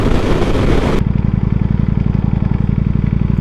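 Ducati V4S motorcycle engine, loud and close: a brief roaring rev, then a steady, throbbing idle with a rapid pulsing beat.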